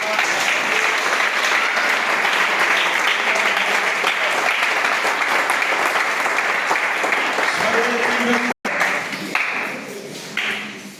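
A church congregation breaks into sustained loud applause that fills the room at an even level, stops abruptly near the end, then trails off into scattered claps.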